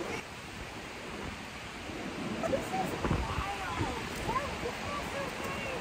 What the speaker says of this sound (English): It's the wind is awful.